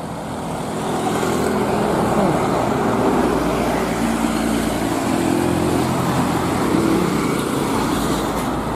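A Budiman Bekasi first-class bus followed by a Prima Jasa Avante bus on a road, heard as a loud, continuous engine and tyre roar of passing traffic that holds steady throughout, with no voices.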